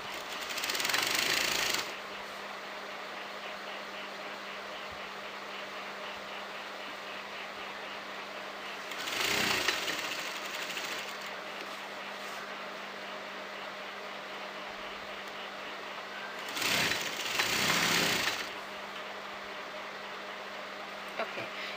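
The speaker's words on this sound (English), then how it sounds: "You can see the red color cloth is being sewn together" A sewing machine stitches red cloth for a kameez in three short bursts of whirring, rattling motor sound, each about two seconds long, separated by long stretches of quiet room hum.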